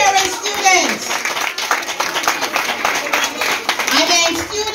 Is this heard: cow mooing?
no